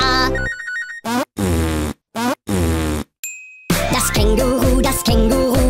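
A synthetic phone ringtone melody alternates with comic fart-like tooting noises in a short rhythmic sequence from a children's song, loud and close.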